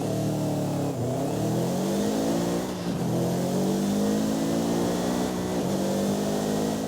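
A Subaru Impreza 22B rally car engine in the video game Forza Horizon 5 revs hard and continuously, its pitch climbing and dropping through several gear-like sweeps, loud and close with no talking.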